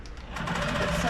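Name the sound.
sewing machine tacking down stitch on quilted tote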